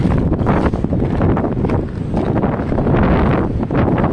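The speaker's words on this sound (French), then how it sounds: "It's so windy too, it almost sounds like voices in the trees." Strong wind blows through trees beside the Lachine Canal, a loud, continuous rushing roar with gusty buffeting against the microphone and no voices.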